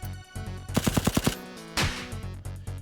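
Rapid burst of about seven gunshots from a gun attack in the video game AI: The Somnium Files nirvanA Initiative, loud and close, followed by a whooshing impact amid game music.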